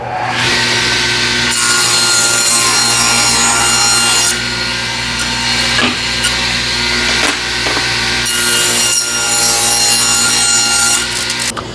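A hand saw cuts through wooden boards for a shelf, a loud, close rasping stroke repeated in steady back-and-forth rhythm, with brief pauses between runs of strokes.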